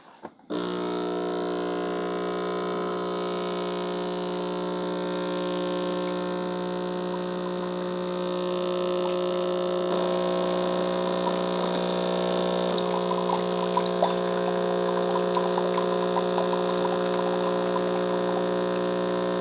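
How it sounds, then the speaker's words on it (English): A Mr. Coffee all-in-one coffee maker brews a K-Cup with a loud, steady pump hum and a whine that runs continuously after a click starts it, with faint gurgles near the end. "just hit the brew button. Again, it's kind of a loud machine."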